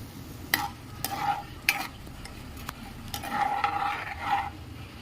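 Cumin with cinnamon, cloves and other whole spices frying in hot oil in a kadai, a soft steady sizzle broken by a few sharp ticks and scrapes of a stirring spoon against the pan.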